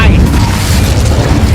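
The Incendio fire spell is cast in the Hogwarts Legacy game, giving a loud, deep whooshing boom with a burst of crackling noise that stays close and full for over a second. Voices may be faintly mixed in.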